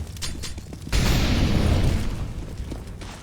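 Incendiary grenade in Counter-Strike: Global Offensive, a light toss followed by a sudden loud whooshing burst of fire that roars and slowly fades, with almost no talk.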